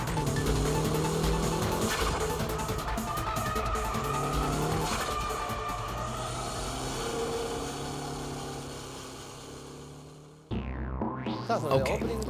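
A car drifts with a long, loud tire squeal layered over a steady engine roar. The sound is sustained for about ten seconds before it cuts to a brief, different burst of engine noise.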